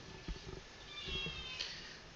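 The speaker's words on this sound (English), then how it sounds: "oh, that's my cat." Pet cat meowing for food indoors: a few short, faint meows close by, one near the start and a longer one in the middle, over quiet room hiss.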